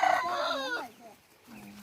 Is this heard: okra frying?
no